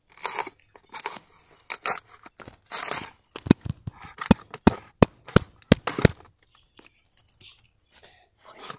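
Packing tape being torn and cut open on a parcel, a run of sharp crackling rips and snaps, close and loud, with soft whispered talk at the start.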